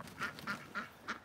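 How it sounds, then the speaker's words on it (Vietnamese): Ducks quack outdoors on a farm property in Montana, four short calls spaced roughly evenly, moderately loud against light ambient noise. "Nè mấy con vịt nè."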